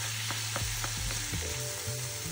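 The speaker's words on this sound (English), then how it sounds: "Heat olive oil in a pan over medium heat. Add the garlic and tofu," Garlic and tofu frying in olive oil in a pan over medium heat, a loud close sizzle with repeated tonal scraping strokes from stirring and crumbling.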